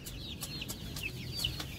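Chicks at a poultry farm give repeated short high peeping calls, a steady stream of close, moderately loud chirps over a low background hum, with no talking.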